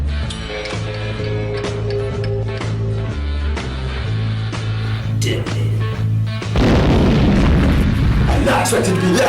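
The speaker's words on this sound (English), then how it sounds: "bit of an explosion." An explosion in a game scene: a deep, heavy boom bursts in late and lingers as a loud, crackling roar, after a stretch of low droning tones and sharp hits.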